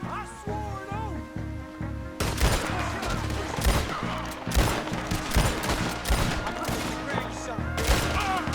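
Rapid bursts of gunfire from a shootout in the video game Red Dead Redemption 2, dense overlapping shots crackling loud and close with game music underneath and shouted voices mixed in.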